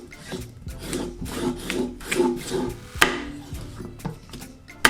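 Maris Piper potatoes are peeled and cut with short, rhythmic scraping strokes and knife taps against a board, close and fairly quiet, ending with a couple of sharper knocks.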